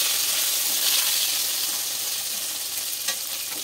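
Green chillies and chopped pointed gourd sizzle steadily in a frying pan, with a constant hiss of hot oil and occasional scrapes as they are stirred together.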